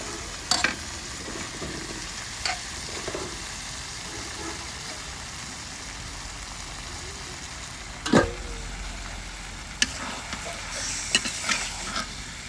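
Broiler chicken pieces sautéed with spices and white cardamom in a pan give a soft, steady sizzle under scraping stirs, with a few sharper knocks of the spoon against the pan.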